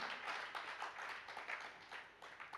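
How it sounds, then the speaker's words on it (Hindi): Audience clapping at a Jain religious discourse, a brief, fairly faint patter of many hands with no talk on top. "ज्यादा कुछ कहो तो ताली सुन लो महाराज जी।"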